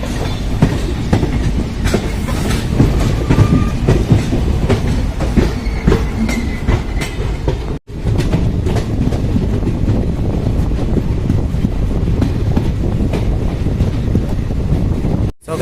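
The Nauchandi Express rolling on the Delhi line: a loud, continuous rumble of wheels on rails with clickety-clack beats and wind buffeting, cutting out briefly midway, no talking.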